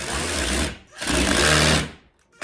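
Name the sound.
screws being screwed into a chair pad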